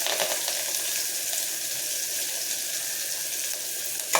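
Onions and a sprig of curry leaves fry in hot oil in a pan for Chettinad-style country chicken soup, giving a steady, close, hissing sizzle that holds even throughout with no talking.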